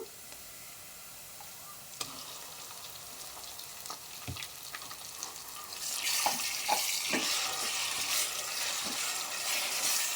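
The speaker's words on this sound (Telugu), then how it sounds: "ఇవి బాగా ఫ్రై అవనిద్దాము. చూడండి, తెల్లగడ్డలు బాగా గోల్డెన్ కలర్ వచ్చేసినాయి." Garlic cloves and chili powder fry in hot oil for a red chili pickle, a soft sizzle with scattered spoon clinks that swells into a louder, hissing crackle partway through.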